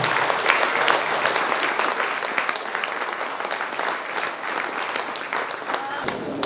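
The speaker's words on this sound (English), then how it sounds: "Round of applause for our panelists" A large audience applauds panelists at a net-zero strategy panel event, a thick, sustained roar of many hands clapping at a steady, loud level throughout.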